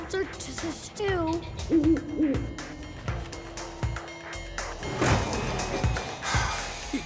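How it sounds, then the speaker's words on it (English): A cartoon owl hoots repeatedly in a wintry, darkening outdoor scene from an animated train show for kids, with wavering hoots set against background music and light effects, fairly clear and close. "Hello, Mr. Owl."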